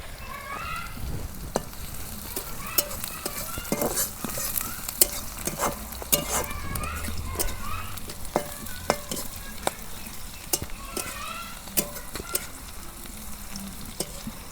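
Onions and cumin seeds fry softly in a pan, a faint steady sizzle broken by frequent sharp spatters and pops from the oil, continuing without talk.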